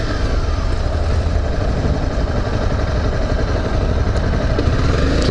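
Motorcycle engine runs at a loud, steady pitch, heard up close while riding. A constant rumble with wind roar stays level throughout, with no voices.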